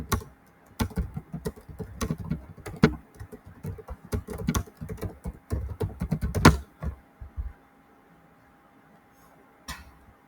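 Someone types a prompt on a computer keyboard, with rapid irregular key clicks for about seven seconds, then quiet with one last stray tap.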